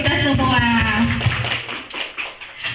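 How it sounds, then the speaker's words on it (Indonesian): A group of teachers at a school training session clap their hands after a voice finishes speaking, a brisk patter of claps that gradually thins out. "Tepuk tangan dulu untuk kita semua."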